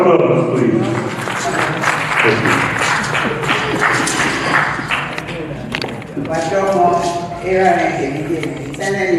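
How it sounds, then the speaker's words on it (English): A round of applause at a 2024 Edo Language Day gathering, with dense clapping that swells and dips over about nine seconds while voices carry over it. "Please give a round of applause, please."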